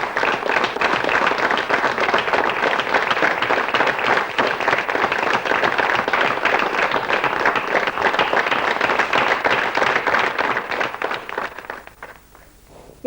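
A studio audience at a Jaipur Doordarshan discussion programme applauds in a dense, steady wash of clapping that holds for about twelve seconds, then fades out quickly.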